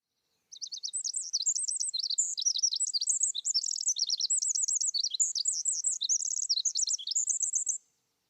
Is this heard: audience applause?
no